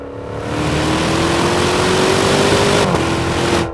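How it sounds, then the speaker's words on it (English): A Ferrari-built 3.8-liter twin-turbo V8 revs up in one long, loud climbing pull, the note rising steadily before cutting sharply near the end and settling back, heard close with no talk. "It's really fast and it sounds really good, and that's because it's a Ferrari engine"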